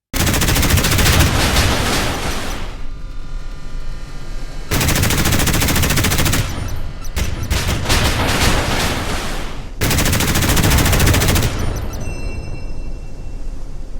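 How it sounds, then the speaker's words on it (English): NSM anti-ship missiles fired in rapid salvos from a cruiser in the naval combat game Modern Warships: loud, dense bursts of launch roar in long blocks separated by brief lulls. "With the full rack of NSM missiles, you can just launch them all at once because the reload is so quick."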